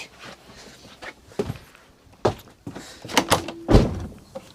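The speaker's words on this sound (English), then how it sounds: "Let me open the door." Indoor clatter of a door being unlatched and pulled open, with a few knocks, a brief scrape and footsteps, ending in a heavier thunk.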